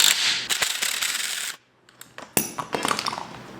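Ratchet wrench loosening an 18 mm strut nut on a sixth-generation Camaro with the coil springs compressed, a rapid run of close, loud clicking bursts broken by a short pause before the clicking resumes.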